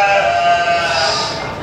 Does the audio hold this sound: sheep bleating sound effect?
yes